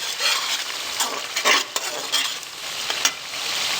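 Rice seasoned with garam masala is stir-roasted over a low flame, giving a close, continuous sizzle with repeated scraping bursts from stirring and no voices.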